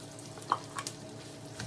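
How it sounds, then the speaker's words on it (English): Brown rice stirred into onions frying in bacon fat: a quiet, brief stretch of soft scraping and light sizzle with a couple of faint stirring knocks. "I'm going to add this to my bacon fat saturated onions."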